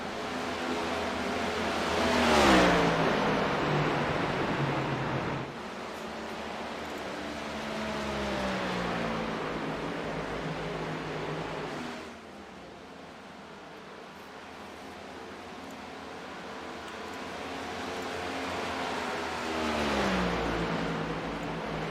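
Stock cars race around a track at the Atlanta Shootout, engines rising and fading as the cars sweep past one after another in long Doppler swells, loud and continuous with no talk.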